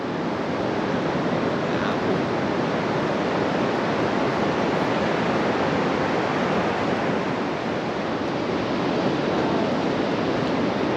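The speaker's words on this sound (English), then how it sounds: "there's a waterfall there, and one here, and a tiny one right there" A steady, broadband rush of falling water pours continuously from a waterfall at Cape Lookout State Park on the Oregon coast, heard alone and fairly close without any voices.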